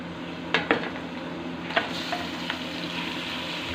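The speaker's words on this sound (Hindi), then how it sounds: "अब अपना चिकन हम इसके अंदर डालेंगे और उसको फ्राई करेंगे।" Chicken frying with browned onions for biryani gives a loud, steady sizzle in the pot, with a few sharp spoon knocks and scrapes while stirring, close, with no talking.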